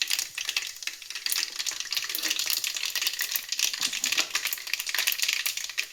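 Urad dal and chana dal frying in oil, a dense crackling sizzle that builds and then holds steady, close up, with no talking.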